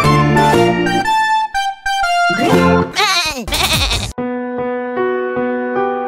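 A sheep bleats loudly and close several times in a row, wavering cries separated by short gaps.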